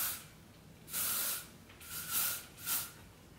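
An aerosol can of Pureology Strengthening Control hairspray mists hair in three short bursts, each a bright close hiss lasting under a second, with quiet pauses between.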